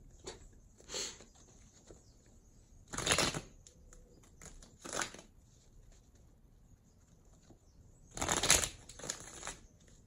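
Tarot cards being shuffled by hand in several short riffling bursts, one around three seconds in and a louder one near the end, with quiet pauses between and no talking.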